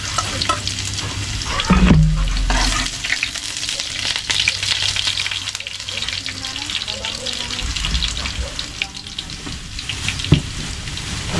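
Garlic sizzling and frying in hot oil while being stirred until browned, a steady close crackle with a brief louder hiss near the start.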